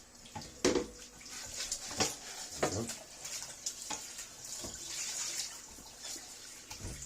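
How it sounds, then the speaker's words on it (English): Water splashing and trickling while green walnuts are rinsed, a soft continuous wash with irregular splashes and clatter, close but fairly quiet. "what we're going to do is just give that a little rinse off."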